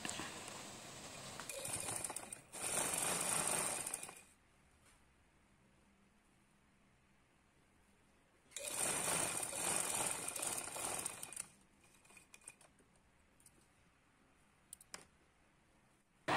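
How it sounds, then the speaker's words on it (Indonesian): Sewing machine stitching the folded hem of an anti-slip 180x200 bed sheet, running in two loud sustained bursts of rapid mechanical whirring separated by a quiet pause, with faint clicks and handling noises afterward. "Nah, ini baru aku jahit."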